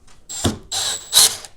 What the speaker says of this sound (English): You put it on drill mode.